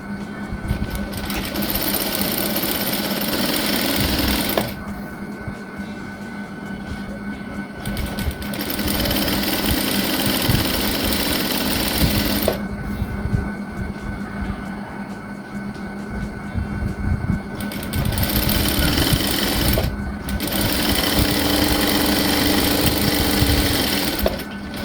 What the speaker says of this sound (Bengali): এখন আমি এই দাগ বরাবর সেলাই দেব